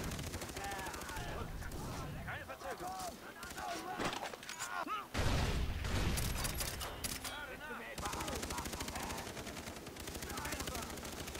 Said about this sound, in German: Hilfe, der schießt auf mich.